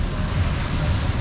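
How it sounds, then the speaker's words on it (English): Torrential rain pouring down during a red weather warning in Cebu, a dense, steady hiss of heavy downpour filling the whole clip, close and continuous with no pauses. "It is now torrential rain."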